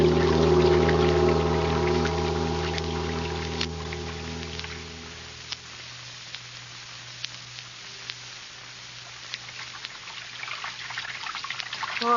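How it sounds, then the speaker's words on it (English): Running water sound effect in an old-time radio drama: a steady rush of pouring water that fades away about midway, leaving quiet scattered drips and small splashes. "Sound of water so loud."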